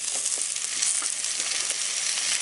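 Onions and tomatoes frying in hot oil for a Haitian-style chicken dish, giving a steady, close broadband sizzle with soft crackles throughout and no talking.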